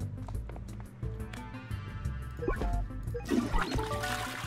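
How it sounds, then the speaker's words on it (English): A toilet flushing in the prison video game The Escapists 2, a short gurgling rush of water rising in the second half over game background music. "So I just need to go, like, flush it down a toilet?"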